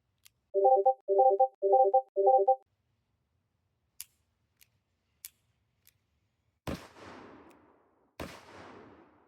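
A Cimarron Bad Boy revolver fires two loud, sharp shots a couple of seconds apart. Before them come four electronic beeps and a few faint clicks.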